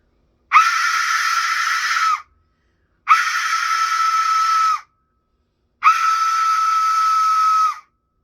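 An Aztec death whistle blown three times, each a piercing, scream-like shriek lasting under two seconds, separated by brief silences.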